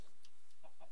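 Short, soft clucks from a chicken in Minecraft, a few quick blips spaced unevenly over under a second, heard alone at moderate volume.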